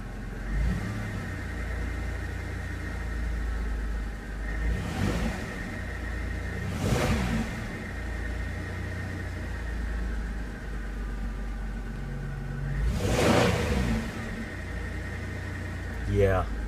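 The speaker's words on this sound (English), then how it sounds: "Give it a little rev." A 1993 Chrysler Town & Country on a cold start, running rich with an exhaust leak, idles with a low rumble and is revved in three short bursts, the engine surging and dropping back each time.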